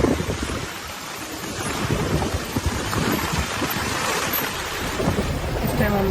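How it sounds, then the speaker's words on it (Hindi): Heavy rain pours during a flood in Rawalpindi, a dense, loud and steady roar of downpour with rumbling thunder mixed in and wind buffeting the microphone, with no one speaking. "काफ़ी तेज़ बारिश हो रही है।"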